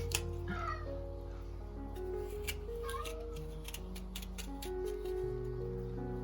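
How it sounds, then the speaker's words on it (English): Faint, sporadic meows from cats outside a kitchen, some distance away, under steady background noise with scattered clicks and snips. "My cats are always meowing outside whenever I make anything in the kitchen"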